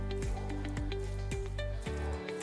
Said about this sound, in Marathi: आता आपण हे चांगलं हलवून घ्यायचं.